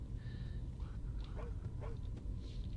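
A horse in Skyrim giving short whiny, yelping calls that sound like a dog whimpering, faint and close over a steady low background hum, a few brief cries across a couple of seconds.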